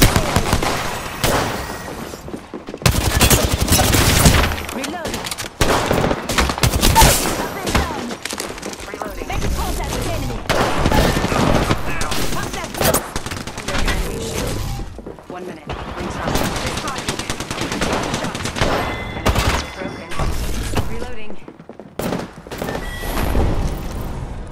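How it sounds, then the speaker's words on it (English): Gunfire in the video game Apex Legends: loud, close bursts of automatic shooting and single shots come in irregular clusters with brief pauses, and voices can be heard among the shots. "Getting shot at."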